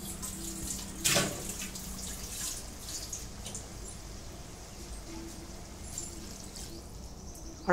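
A little water poured into a cooking pan of jackfruit, potatoes and fish head: a short splash near the start, then a low simmering hiss in a quiet kitchen.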